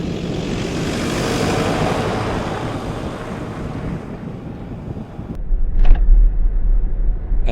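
A vehicle driving off-road along wheel tracks across Ntwetwe Pan in Botswana, a loud continuous rumble with heavy wind buffeting, easing briefly before a deeper low surge near the end.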